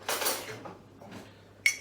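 A cracked egg gets a quick whisk in a mug with a metal utensil, giving a few light clinks and scrapes that end in one sharp ring against the mug, near and clear, with no talking.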